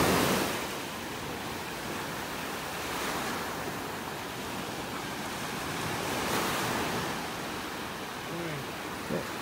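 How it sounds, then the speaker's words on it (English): Ocean waves wash onto a beach in North Naples, Florida, a steady rushing surf with gentle swells of louder breaking, heard alone against light wind. "Love listening to the waves."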